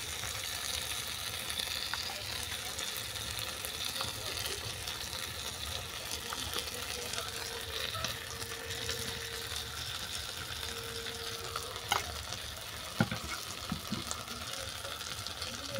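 Ghee sizzles over boiled flattened rice with fish head and potatoes in a pan, a steady soft frying hiss with occasional scrapes of stirring and a couple of sharp clicks near the end.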